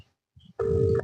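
After a brief silence and a few faint clicks, a phone call sounds as a steady electronic ringing tone that holds for about half a second and goes unanswered.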